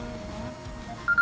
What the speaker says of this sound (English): Funnily enough, there goes my phone.